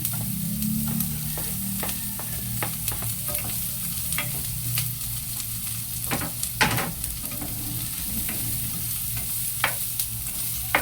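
Onion and garlic sautéing in a pan for a Filipino vegetable dish: steady sizzling and frying hiss with intermittent scraping stirs throughout, close and fairly quiet, no talking.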